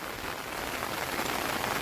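Steady rain falls outdoors, a dense, even hiss of drops on surfaces with no voices, close and constant.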